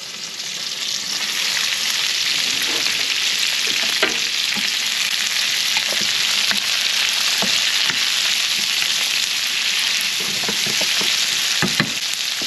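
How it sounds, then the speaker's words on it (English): Green beans frying in a pan beside cod, a loud, steady close sizzle with occasional crackles and faint stirring knocks, unbroken for the whole stretch and without speech. "I'm gonna put the green beans in now."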